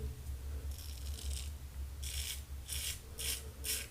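Short bursts of raspy scraping from a safety razor shaving against the grain, repeated strokes separated by brief pauses, close and fairly quiet against a low steady hum.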